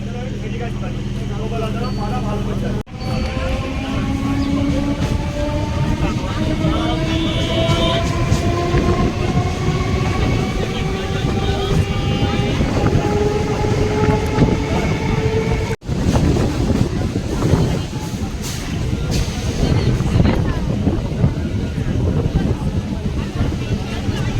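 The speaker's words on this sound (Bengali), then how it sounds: "ট্রেন চলে আসলো বহিরা কালীবাড়ি এবং ট্রেন এখানে এক মিনিটের জন্য দাঁড়াবে" Loud train rumble with rising whine and clattering wheels as a local train pulls into Bahira Kalibari station, interrupted by sharp clunks, with voices talking nearby.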